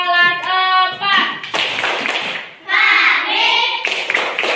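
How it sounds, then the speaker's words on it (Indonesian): Fourth-grade pupils in a classroom perform a rhythmic clapping chant, sharp hand claps mixed with loud children's voices chanting in unison, close and energetic with irregular bursts and a short pause midway. "Tepuk kelas 4."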